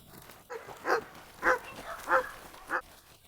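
A dog near a swimming pool barks at another dog in the water, giving four or five sharp, loud barks at irregular intervals.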